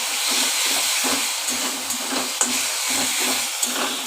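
Egg curry (dimer kalia) ingredients with a squeeze of lemon sizzle as they are sautéed together in a pan, a loud, steady close hiss broken by faint scraping ticks.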